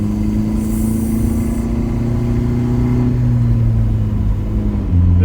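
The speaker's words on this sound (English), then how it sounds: "You hear the boost coming out?" Inside a Saab 900 turbo, the engine hums and rumbles steadily as the car accelerates gently with four people aboard, with a faint high whine up top and a slight dip near the end.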